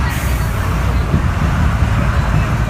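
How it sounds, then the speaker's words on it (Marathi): Road traffic in the Konkan region with many cars and buses, a loud, steady roadway rumble of engines moving close by and continuing throughout. "हे बघा किती गाड्या आहेत भरपूरच गाड्या आहेत"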